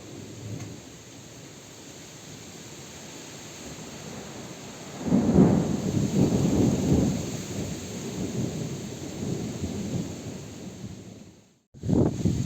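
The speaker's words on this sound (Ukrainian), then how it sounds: "а дощ такий собі, ще, знаєте, не надто великий" Steady light, gusty rain hisses in a country garden while a deep roll of thunder rumbles in and lingers for several seconds before fading, then a brief dropout.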